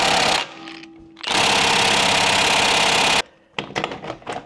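A battery impact wrench hammers at a stuck bolt on a Porsche 996 911 Turbo in two loud, rattling bursts at close range, broken by short pauses and fainter knocks.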